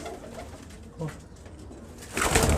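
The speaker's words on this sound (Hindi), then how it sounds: "और यही कबूतर होते हैं, यही इन्होंने उड़ना है" Soft, low pigeon coos sound at a moderate distance against faint background noise, with a louder rustling burst near the end.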